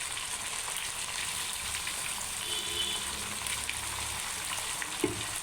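Raw chicken, about a kilogram, frying in a hot pan for an aloo chicken curry, giving a constant dense sizzle at moderate level with faint scraping and a light tap near the end, no talking.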